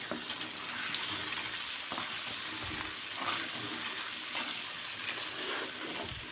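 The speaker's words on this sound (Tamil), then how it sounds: "விடாமல் கிளறிட்டே இருக்கணுங்க" Kali dough cooks in oil in a pan while being stirred without pause, giving a continuous soft sizzling hiss with faint scraping and bubbling throughout.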